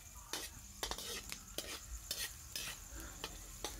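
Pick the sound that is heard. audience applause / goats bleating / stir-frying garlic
stir-frying garlic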